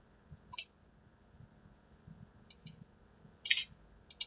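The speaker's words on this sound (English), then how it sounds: "We need to click on Data" Computer mouse clicks while selecting Solver in Excel, sharp close-up single and double clicks arriving in irregular short bursts over near silence.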